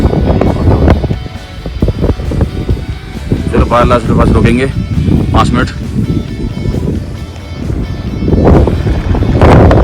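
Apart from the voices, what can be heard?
cold wind blowing in the mountains near Baralacha pass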